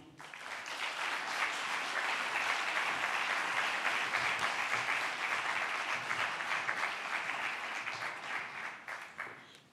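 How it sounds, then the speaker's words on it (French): Sustained audience applause at an opening address, a full wash of many hands that swells quickly, holds steady, then tapers off toward the end, moderately distant. "vous demande de l'applaudir."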